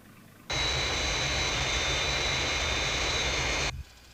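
The Fireflash airliner roars in toward the runway on its landing approach in a Thunderbirds episode, a loud steady jet-engine roar that switches on abruptly and cuts off about three seconds later.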